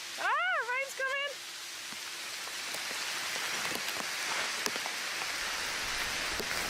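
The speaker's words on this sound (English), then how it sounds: "Ah, rain's coming!" Rain falls on a tarp in a forest campsite, a steady dense patter with scattered sharper drops, growing slightly heavier. A short voiced sound comes at the start.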